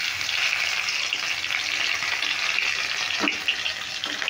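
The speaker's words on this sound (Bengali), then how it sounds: "এবার দিয়ে দেবো লঙ্কা কুচিগুলো।" Chopped green chillies dropped into hot oil tempered with carom seeds in a pan set a steady, bright sizzle going that runs unbroken throughout.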